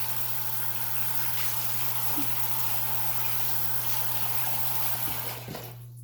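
Steady running tap water splashing as a face is rinsed at a sink, continuous and close for most of the clip, then tapering off near the end.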